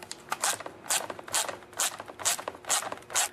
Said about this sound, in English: remove the two nuts that hold the carburetor on right there